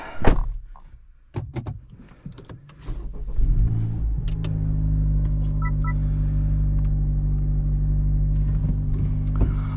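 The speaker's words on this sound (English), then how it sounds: "we're gonna start the car, put it in the garage" A Honda Civic Type R FL5 clicks and thumps through door and cabin handling, then starts up into a steady, loud idle rumble that holds as it begins to move toward the garage.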